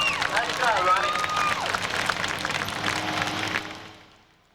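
A racetrack crowd in Bakersfield, California, at a Budweiser Racing Series event applauds driver Ron Bartell with steady clapping and cheering, then fades away toward the end.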